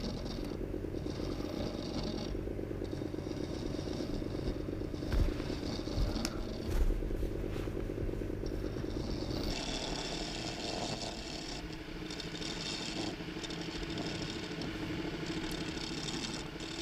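Wood lathe turning a long segmented vase held by a steady rest with rollerblade wheels; a faint, continuous motor hum with a rough tool-scraping texture and a couple of soft knocks, no speech.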